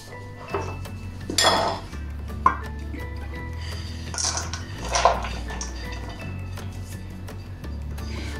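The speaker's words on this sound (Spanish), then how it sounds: "vamos a agregar nuestras chispitas de chocolate" Chocolate chips get mixed into cookie dough with a spatula in a bowl, making intermittent close clinks and scrapes against the bowl with a low hum underneath and no voices.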